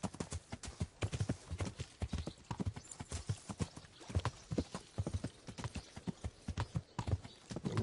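Horse hooves clip-clopping at a steady, brisk rhythm while riding a roan horse in the Kingdom Come: Deliverance video game, close and continuous with no other sounds.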